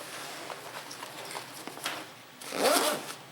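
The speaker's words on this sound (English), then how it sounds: "zips up" Zipper on a Smith & Wesson Lite Force tactical pack being pulled closed, a short scratchy run ending in a louder, close rasp after a few faint handling sounds.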